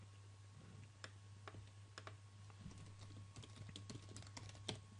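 Computer keyboard typing while coding a DarkBASIC 3D game: quiet, irregular clicks and key taps close by over a steady low electrical hum, with no talk.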